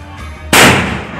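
A firecracker lit on the ground bursts with one sharp, loud bang after a short quiet fuse wait, its blast decaying over a fraction of a second.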